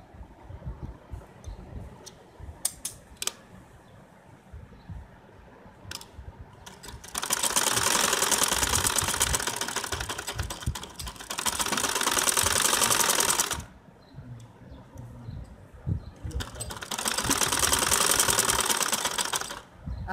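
A sewing machine runs in two long stitching bursts, stitching the shoulder seam of a kameez, with quiet handling sounds and pauses between runs.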